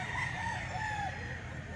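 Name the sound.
rooster crowing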